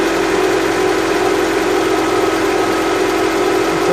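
A Honda CR-V engine idles just after a major service, a steady, even hum that holds unchanged and close for the whole stretch, with no voices over it.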